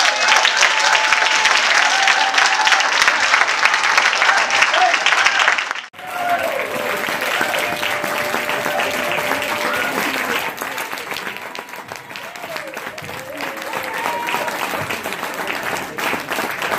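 Audience clapping at a live political event, a loud sustained wash of applause from a crowd that briefly dips and then swells again, with some voices calling out beneath it.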